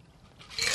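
Blue margarita poured from a shaker through a strainer into a glass, a brief close splashing trickle that builds and brightens in its last moments, with no talking.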